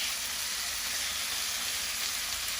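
Chicken kebab fries over a medium flame in a pan, giving a steady, close, dense sizzle and hiss that doesn't let up.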